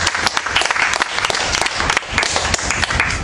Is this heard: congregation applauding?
yes